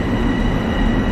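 Train in the Train Sim World video game, a loud continuous rumble of rolling wheels and motor hum running steadily throughout, with no talking.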